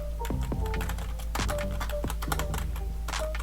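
Fingers tap on a computer keyboard in short irregular bursts of clicky keystrokes, close and fairly quiet over a low steady hum.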